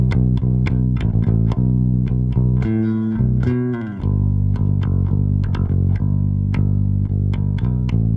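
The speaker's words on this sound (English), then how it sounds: "A slightly more busy bass line that sounds like this." A busy bass line plays in a verse, with steady plucked notes over a layered sustained backing and a brief sliding passage midway.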